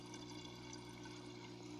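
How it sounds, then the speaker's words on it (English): Water spills steadily from a homemade overflow box on a cichlid aquarium, a constant trickling and splashing wash with a low pump hum beneath it, close and continuous. "there is the water overflowing"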